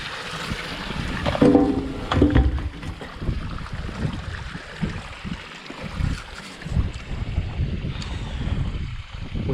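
Water splashing from several pump return pipes into a buried 1000-litre IBC tank in a garden water feature, a steady close trickling and gushing with gusty wind noise and no voices.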